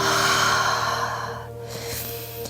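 A pregnant woman breathes slowly during third-trimester pelvic floor release stretches: a long, audible breath that fades into a quieter second breath, close to the microphone with no talking.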